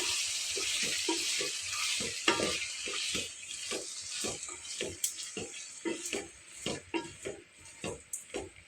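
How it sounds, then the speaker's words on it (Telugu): Koya amaranth greens fry in hot oil for an upma, a steady close sizzle broken by a regular rhythm of stirring scrapes against the pan. "ఇప్పుడు దీన్ని బాగా నూనెలో ఫ్రై చేసుకోవాలండి"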